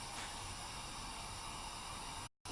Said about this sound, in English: Now you can see this soup is boiled